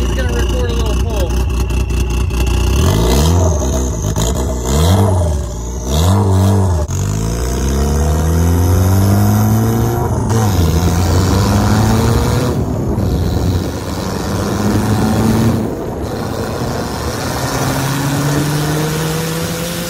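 A cammed SRT4 dune buggy on its stock turbo pulls hard from up close, its engine note climbing and dropping through repeated rising sweeps, with a loud, rough, sustained roar.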